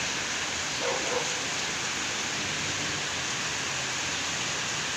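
Rain falling on a rainy afternoon, a steady broadband hiss at moderate level that continues unbroken, with a faint brief sound near the start.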